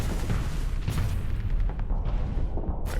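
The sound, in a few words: flak cannons firing in Starsector video game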